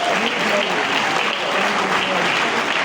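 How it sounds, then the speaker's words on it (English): An audience at a Senate local content event applauds a senator, with sustained, even clapping that fills the room throughout. "he deserves another round of applause"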